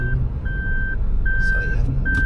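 Car reversing into a parking spot with a loud, regular reversing beeper sounding four times over a low engine rumble nearby.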